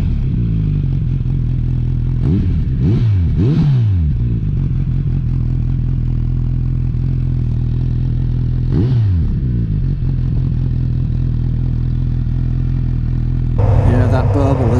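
A Kawasaki Z900RS motorcycle engine burbles off throttle in a steady, close, loud drone, with a few rising and falling revs early on and again midway and a brighter surge at the very end.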